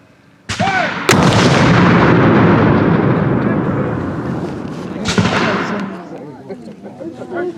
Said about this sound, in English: Gun is ready to fire, Captain. Canister, 100 yards.